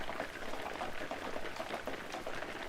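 Rain falls steadily, a dense bubbling, sizzling patter that fills the whole moment evenly at moderate loudness with no voices.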